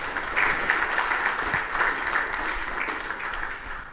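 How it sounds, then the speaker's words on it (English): Applause from an audience at a welcome event, a steady patter of clapping hands sustained for a few seconds at moderate volume with no talking. "let's give her a round of applause."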